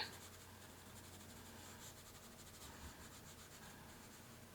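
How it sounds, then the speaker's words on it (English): Continuous soft scratchy rubbing of a 2B pencil on paper, shading the lips of a portrait drawing, close and faint, in quick back-and-forth strokes with no voices. "put a little bit more shading on the, with a 2B pencil on the upper sides of the lips"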